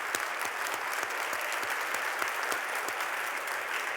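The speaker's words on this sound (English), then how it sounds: "Big round of applause." Applause from an audience at an evening panel event on erosion, a dense, steady wash of clapping filling the room at fairly loud level, continuing without pause.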